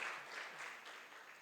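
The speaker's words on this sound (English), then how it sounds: "give yourselves a round of applause." A workshop audience applauds briefly, a soft, distant wash of clapping that fades within about a second and a half.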